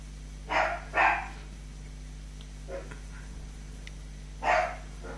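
A dog barks excitedly at people outside, giving three sharp barks indoors at moderate distance, two close together near the start and one near the end, with quieter yips between them over a steady low hum.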